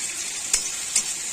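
Crushed garlic drops into hot oil for a small-fish curry and gives a close, steady hissing sizzle. Two quick spatter bursts break the sizzle within a second.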